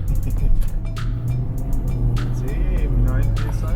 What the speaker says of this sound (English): Now we take the car for a bit of a drive.